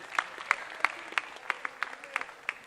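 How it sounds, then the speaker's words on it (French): A small audience claps for a prize winner at a Christmas show, with sparse, separate hand claps standing out as distinct sharp hits over a thin wash of quieter clapping. "On va applaudir pour notre gagnant, mesdames, messieurs."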